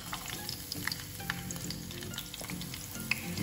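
Garlic stir-frying in a hot pan for a wine-flavored meat and vegetable stir fry: a steady, close crackling sizzle with scattered sharper pops and spatters, continuous throughout with no talking.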